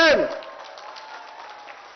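A crowd applauds at an election rally for the Prime Minister, a steady wash of clapping following a brief loud voice at the start, continuing evenly throughout.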